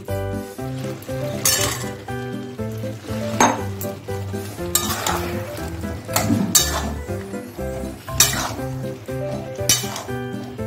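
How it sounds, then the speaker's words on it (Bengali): Fish-roe fritters for a curry go into a hot pan with a bright, loud sizzle and occasional utensil clinks, layered over steady background music. "এবার ডিমের বড়াগুলো দিয়ে দিচ্ছি।"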